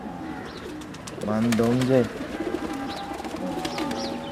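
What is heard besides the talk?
black and blue pigeon cooing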